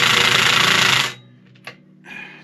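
An impact driver with a T50 bit runs on a Can-Am Maverick Sport Max fastener, one loud, sustained buzzing burst of about a second that cuts off abruptly, followed by a few faint clicks.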